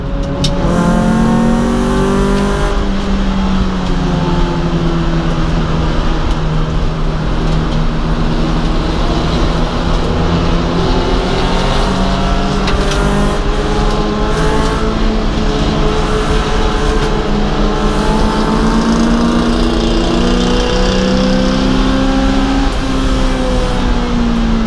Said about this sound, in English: How fast these really junky cars are going around the corners.